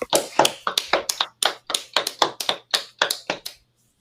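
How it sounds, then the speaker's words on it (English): A short burst of applause, brisk hand claps from a small group for a few seconds, then stopping abruptly into silence. "Can we just get another round of applause for our participants"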